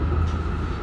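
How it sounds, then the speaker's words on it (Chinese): Brief, steady low rumble and rolling hum from inside a moving Hong Kong tram, a continuous mechanical drone with no voices. "电车好快"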